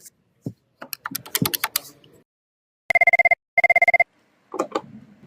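An office telephone in an Indonesian corporate drama being used to place a call: short key-press clicks, then two loud, close electronic ringing bursts in quick succession, followed by voices picking up.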